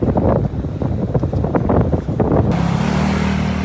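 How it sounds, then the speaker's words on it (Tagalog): Strong wind ahead of a typhoon buffets the microphone during an outdoor run in loud, continuous gusts, with a deep rumbling roar throughout and no voices. "Lakas ng hangin."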